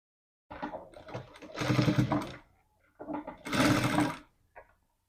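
A sewing machine stitching a fabric edge, two close bursts of rapid mechanical whirring about a second long each, separated by a short pause, then a brief final click.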